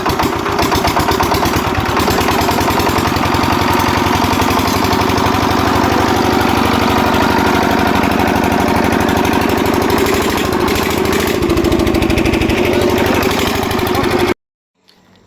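A tractor engine, long left standing, runs steadily at low revs while watering trees, a loud, close, rhythmic chugging that keeps up without change before cutting off abruptly.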